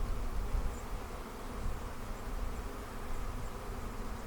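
Steady, dense buzzing of many honey bees, continuous and close, with no pauses or voices.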